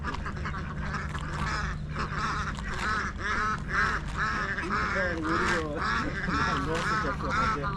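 Ducks quack continuously in a busy, overlapping chorus close by, set outdoors in Africa during a fishing trip, with a low steady hum beneath.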